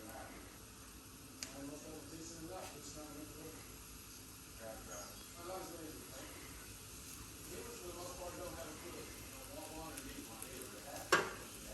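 Diced chicken sizzles in a pan for cheesy chicken enchiladas, a faint steady frying hiss with occasional stirring scrapes and a sharp clatter near the end, while a person talks over it.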